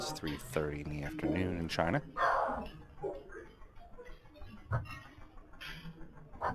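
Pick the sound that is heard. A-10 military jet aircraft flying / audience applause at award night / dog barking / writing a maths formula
dog barking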